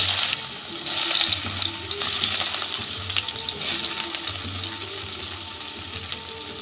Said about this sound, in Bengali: ঘি দিয়ে আমি পনিরটা আগে ভেজে নেব।